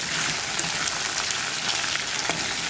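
Prawns fry in a pan with onion, a steady, close crackling sizzle with dense spitting and occasional sharper pops from the hot oil.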